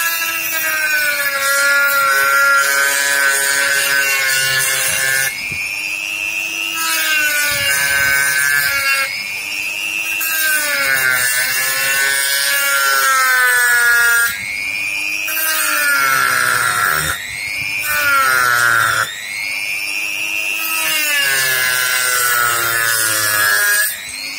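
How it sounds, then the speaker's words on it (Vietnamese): A saw cuts through a phone charger along a marked line in long, repeated strokes, each with a loud, squealing, tonal rasp that bends in pitch, followed by brief pauses between passes. "bây giờ mình chỉ cưa theo cái đường mình đánh dấu thôi"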